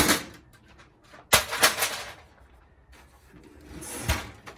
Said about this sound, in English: Let's go ahead and take this drawer off.